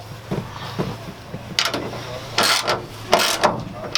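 A 9/16 socket ratchet cranks a nut on a truck bed rail bracket, giving a few quick bursts of rapid close clicking between short pauses.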